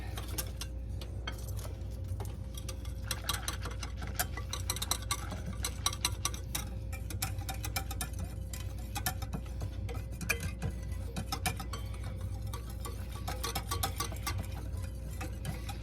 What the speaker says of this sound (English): And we're going to just whisk that.